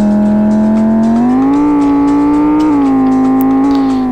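A sport bike's engine in the driving game Sports bike simulator Drift 3D drones loudly at a steady high pitch, rising slightly as it revs and then holding, with no one talking.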